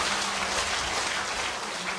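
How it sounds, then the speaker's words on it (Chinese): An audience at a political preparatory meeting claps warmly for a professor after his lecture on auditing the national budget: dense, even applause from many hands, sustained throughout, with no voices. "我们再一次以热烈的掌声谢谢我们的罗教授"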